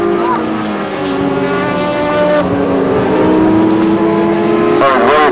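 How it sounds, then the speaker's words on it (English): Course car rolling up to the start line of a sidecar race, its engine droning steadily and fairly near for several seconds with a crowd-like background wash. "At the start, as the course car comes in."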